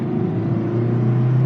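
A 2015 Honda Civic Si DTEC engine strains under full throttle in second gear, a close, steady droning hum with a deep rumble beneath it through the whole short stretch.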